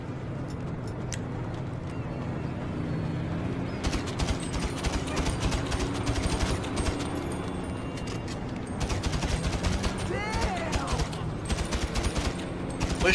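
Gunfire in a video game, bursts of rapid automatic shots rattling in and out, alternating with quieter stretches and distant single pops.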